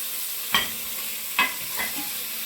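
Tomatoes and thyme, with garlic and scotch bonnet pepper, saute in a pan under a soft continuous sizzle, broken by two or three sharp spoon scrapes and stirs close by.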